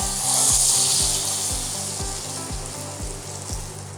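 Ready-to-cook pizza pasta sauce hitting a hot pan and stir-frying, with a loud continuous sizzle and regular knocking strokes of the spoon at close range, no talking.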